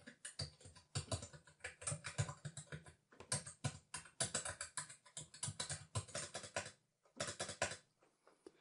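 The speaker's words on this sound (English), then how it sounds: "And G is a computer keyboard." Typing on a computer keyboard, recorded as a sample: rapid bursts of key clicks and clacks in irregular clusters with short pauses between, close and fairly quiet.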